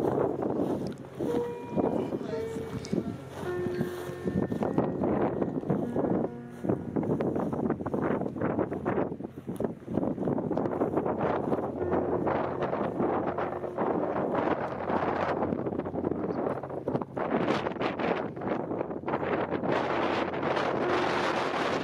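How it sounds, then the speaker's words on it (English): Strong wind roars and buffets the microphone in loud, gusty bursts in an open, near-deserted town, with a voice briefly heard early on. "I'm going to let some of the audio come in for brief seconds or brief moments so you can just hear the wind"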